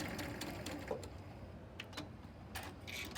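A sewing machine stitches quilt fabric with a quarter-inch seam for a nine-patch sunflower quilt, giving a steady, fairly quiet running hum with light ticking from the mechanism and no talk.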